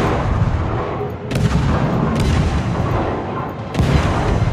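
Warship guns firing in the World of Warships video game: three heavy broadband booms over a steady rumbling battle bed, each blast sharp and loud, spaced roughly a second or more apart.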